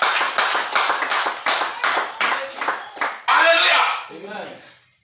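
Congregation at a French-language Bible teaching service breaking into rhythmic applause, steady bursts of clapping that swell into loud cheering and shouts near the end, with a voice calling out over the crowd.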